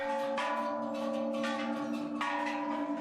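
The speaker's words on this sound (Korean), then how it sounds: "오르는 사람들이 너나 할 것 없이 모두 종을 치고 있었다" Temple bells struck by people climbing the stairs at Phu Khao Thong, Bangkok, ring on and on in overlapping metallic tones, with fresh strikes layered over a steady sustained hum.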